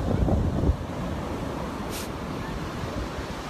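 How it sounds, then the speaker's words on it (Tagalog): A big ocean wave crashes on a beach where a Yorkie plays. The roar is loud and near and continues as a steady rushing wash, with heavy wind buffeting the microphone. "Ayan na, ang laki ng alon."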